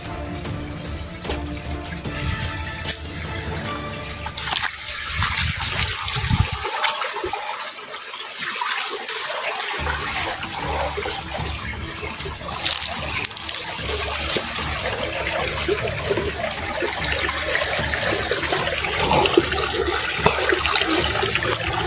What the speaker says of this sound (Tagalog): May sapa dito, no. Sapa konti.